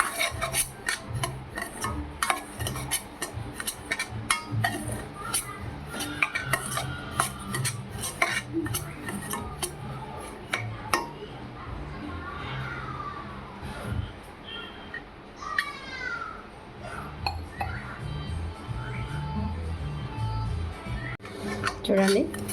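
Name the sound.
semolina (rava) being dry-roasted and stirred in a kadai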